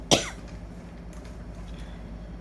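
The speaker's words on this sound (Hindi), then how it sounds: "एक तो मुझे खांसी भी बहुत ज़्यादा हो रही है, ड्राई का" A single short dry cough sounds near the start, close to the microphone, followed by quiet room tone.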